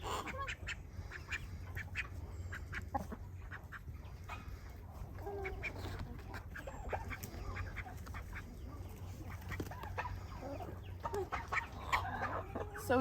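A small duck quacking and clucking in short, scattered calls at close range, mixed with rustling and other fowl sounds throughout.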